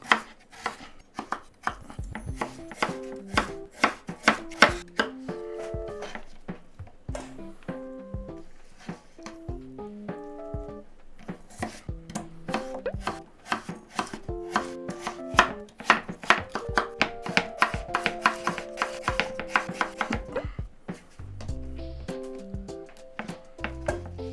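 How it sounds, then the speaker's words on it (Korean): Knife thinly slicing potatoes for gochujang stew, rapid rhythmic chopping taps on a cutting board in bursts, close and crisp with brief pauses. "감자는 그래도 찌개 들어가니까 좀 얇게 썰게"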